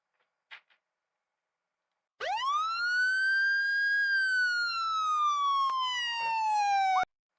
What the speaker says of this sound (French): Trouve un son de sirène de police